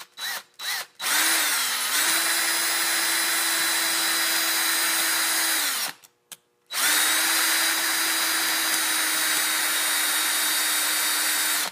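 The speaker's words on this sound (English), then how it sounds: "my drill's running out of fuel" A power drill runs loudly in a workshop while building a replica Johnson harvesting machine, with short bursts at the start, a long steady whine, a brief stop, then another sustained run.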